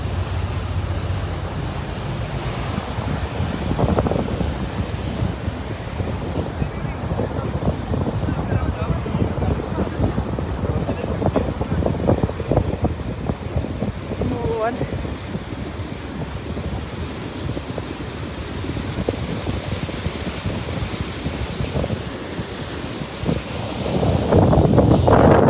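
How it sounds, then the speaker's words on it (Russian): Strong wind on the Dnieper River roars and buffets the microphone continuously, a dense rushing noise that gusts louder near the end. "Ветер, конечно, сильный ветер сегодня."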